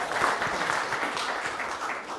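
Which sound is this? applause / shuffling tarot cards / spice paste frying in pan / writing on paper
applause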